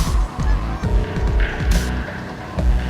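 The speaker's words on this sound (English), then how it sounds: "a flying V of Canadian geese" A flock of Canada geese flying in a V formation over winter woodland, giving repeated loud honks in overlapping bursts close overhead.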